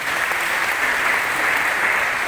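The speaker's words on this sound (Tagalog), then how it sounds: "Palakpak naman kayo dyan" Guests at a certificate awarding in Wawa, Siniloan, Laguna clap together in a steady, even burst of applause that holds at the same loudness throughout.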